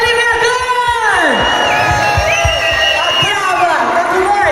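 Crowd at a live street music event cheers and whoops loudly and continuously, with a steady roar of voices and sustained tones from the sound system beneath.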